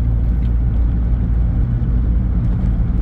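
A Smart ForTwo 450 with a freshly rebuilt engine on the road, giving a steady, loud, close engine and road rumble that holds an even level throughout, with no other sounds.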